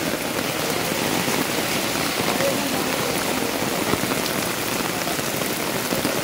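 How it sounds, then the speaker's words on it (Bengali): Heavy rain falls on an umbrella outdoors near a temple, making a dense, even, close patter that continues without a break. "কারণ বৃষ্টি পড়ছে"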